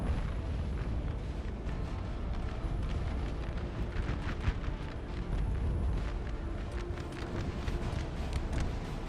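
Distant artillery fire on a Napoleonic battlefield in Napoleon: Total War, with scattered muffled booms rising from a steady noisy battle rumble and no clear rhythm.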